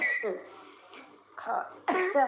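Several harsh coughs burst out in quick succession, close and fairly loud, with throat-clearing sounds between them.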